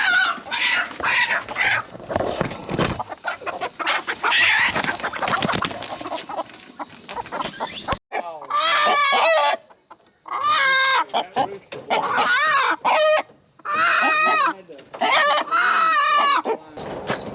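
Loud, close clucking and agitated squawking from chickens and a rooster in an old chicken coop, first amid rustling commotion, then as a series of sharp repeated calls with brief pauses.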